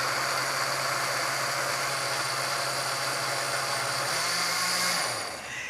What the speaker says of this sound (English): this is going to whiz everything together and make it nice and smooth